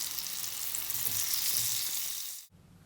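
Modak frying in pure homemade ghee gives off a dense, steady sizzle that stays close and bright, then cuts off abruptly near the end.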